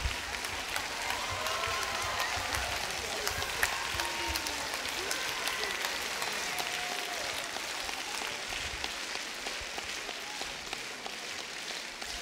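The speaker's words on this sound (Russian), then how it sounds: "Им надо чуть громче аплодировать." Audience applause at a chanson evening concert, a steady dense wash of clapping from a crowd that carries evenly through the whole stretch at moderate level, with faint background murmur.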